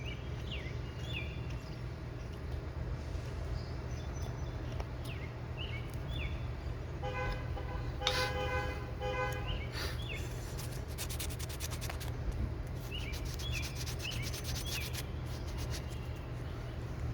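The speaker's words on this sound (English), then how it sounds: "I hear horns." Car horns honk in the distance on a quiet morning, a few short toots and one longer blare, faint over a steady low rumble, with scattered bird chirps around them.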